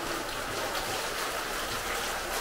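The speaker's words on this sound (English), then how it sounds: "we got rained out." Steady rain falls on an outdoor swim-up resort pool in Mexico, a continuous broadband hiss of drops on water and surfaces, even and unbroken throughout, with no voices.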